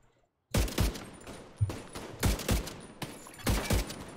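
Repeated bursts of gunfire from The Division 2, loud close shots fired in several quick clusters with short gaps between them, no talking.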